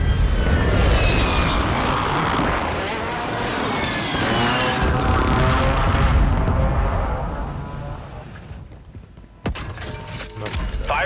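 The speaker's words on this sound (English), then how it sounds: "Requesting recon flyover!" A recon aircraft in Call of Duty sweeps overhead in a loud, broad roar that swells and holds for several seconds, then fades away, ending with a short burst of other game noise.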